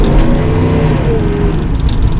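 A 1984 Mercedes-Benz 380SL R107 engine pulls hard under acceleration, a loud, continuous low rumble close by with no talk over it.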